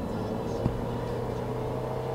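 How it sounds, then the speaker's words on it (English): Toyota Wish engine under steady acceleration, a continuous, moderately loud droning hum with a faint thump partway through, heard from inside the car. "You just put your foot down, the RPM will rev up very high and it's very quick to take off"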